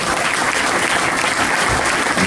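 An audience at an awards ceremony claps steadily and loudly, a dense, continuous wash of applause with no break.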